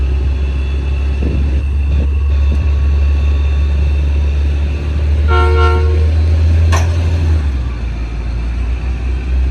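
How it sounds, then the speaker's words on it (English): A Trackmobile rail vehicle's air horn sounds one short, loud chord over the steady low rumble of its idling engine, then quickly cuts off. "air horn signal."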